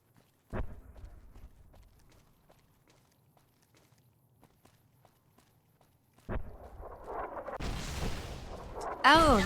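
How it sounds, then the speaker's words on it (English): Gunfire erupts in Fallout New Vegas as enemies shoot at the player, with a sharp report after near silence and then a dense, loud volley of shots and impacts near the end. "Oh, they're shooting at me."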